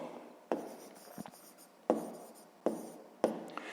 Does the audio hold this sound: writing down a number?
yes